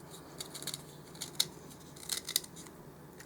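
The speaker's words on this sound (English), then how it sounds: "Just use a pencil sharpener" A pencil sharpener shaves a point onto an 8-inch length of 1/8-inch wooden dowel, giving a run of quiet, uneven scraping and crisp clicks close by with no talk.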